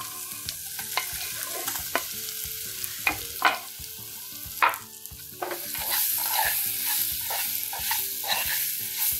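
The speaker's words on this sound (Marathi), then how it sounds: "याच्यामध्ये आता पेरूच्या फोडी टाकायच्या" Pieces of guava sautéing in hot oil for a pickle, with a continuous soft sizzle and frequent sharp clicks and scrapes of stirring, no voices.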